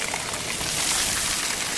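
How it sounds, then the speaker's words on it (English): Steady wash of water at a beach as children play in it, a continuous close splashing and rushing hiss with no talk over it. "The kids playing in the water."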